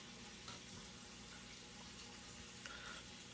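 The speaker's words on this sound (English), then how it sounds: "Still filtering the water." Water filter running in a freshly cleaned red-eared slider turtle tank, giving a steady, even wash of trickling, bubbling water noise at low level throughout, with no talking.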